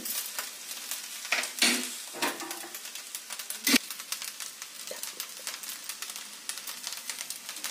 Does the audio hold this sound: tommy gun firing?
no